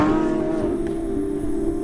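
A Lamborghini Sian's naturally aspirated V12 hybrid engine holds a loud, steady, sustained drone, close and alone with no talk.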